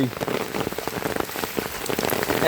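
Heavy rain pours steadily onto surfaces, a dense, close hiss of countless drops with scattered louder splatters throughout, alone without any voices.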